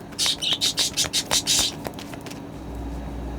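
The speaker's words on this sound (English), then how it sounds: "I have 2 budgies." Two pet budgies chirp in a rapid run of bright, close chirps and tweets for about two seconds, then fall quiet under low room noise.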